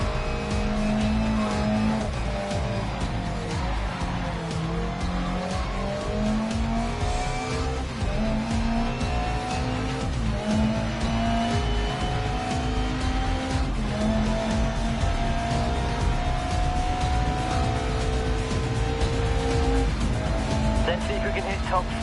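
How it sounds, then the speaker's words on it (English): A car slides under the handbrake with tires skidding and squealing. A loud, continuous engine note rises and falls beneath the screech for the whole stretch. "Touch of handbrake, I'd like to see you control the slide."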